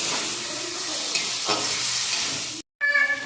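Soaked Gobindobhog rice is stir-fried with potatoes and spices in a hot pan, giving a steady close sizzle with stirring scrapes that cuts out briefly, then resumes.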